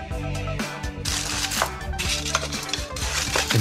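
Pie weights poured into a foil- or parchment-lined tart tin before blind baking, a dense clattering rattle of small hard pieces striking metal and each other, continuous and close.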